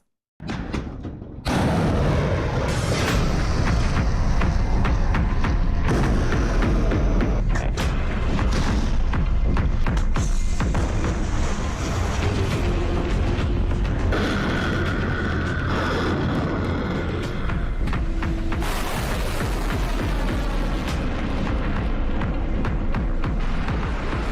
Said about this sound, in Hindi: जमीन से आसमान में उड़ान भरती ये मिसाइलें भारत के पराक्रम की बानगी हैं।